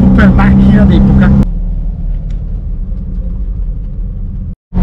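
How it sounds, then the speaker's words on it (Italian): A vintage 1970 Fiat 500 drives off: its small engine gives a steady, close, low rumble that runs on after a brief stretch of talking, then cuts out abruptly near the end. "Ora si va a scuola con la super macchina d'epoca."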